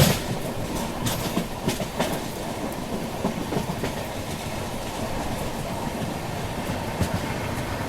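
Tirunelveli Bilaspur Superfast express heard from on board, with steady rail rumble and a clickety-clack of wheels over joints running continuously near Kazipet station bypass.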